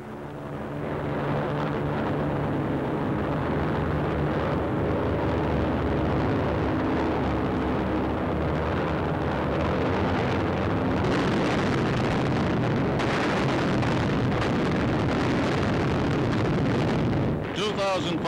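Bombs dropped from Allied aircraft over the German capital in 1944, high explosives and incendiaries, burst in a sustained, dense low roar of rumbling explosions that stays loud for nearly the whole stretch under spoken narration.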